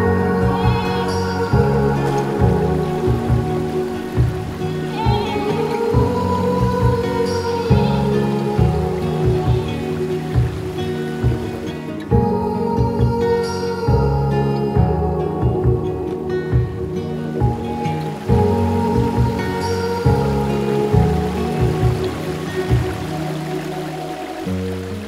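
Mountain river rushing past a camp in the Pahalgam hills of Kashmir, a steady close wash of flowing water that runs on without a break.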